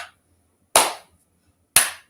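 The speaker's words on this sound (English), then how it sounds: "let's hear those clapping hands" Three sharp, isolated hand claps about a second apart ring out close and crisp during a children's story time sing-along, with silence between them.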